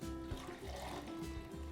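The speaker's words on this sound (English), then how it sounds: "Now I have a pot of boiling water. What I'm going to do is transfer it into something a little smaller" Boiling water is poured from a pot into a smaller pot, making a faint, continuous splashing gurgle with a few soft bumps over a low hum.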